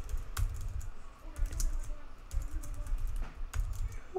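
Quick bursts of keystrokes on a computer keyboard, clustered clicks in short runs with brief pauses, close and clear, no talking.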